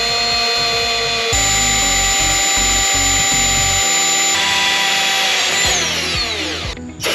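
A power drill whines at high speed while boring, its oiled bit biting with a loud sustained pitch and a rough grinding underneath that stops and drops away as the motor spins down at the end.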